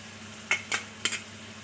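Chopped onions tipped into a pan of frying chicken, making three quick close clattering, scraping bursts over a quiet background, with no talking.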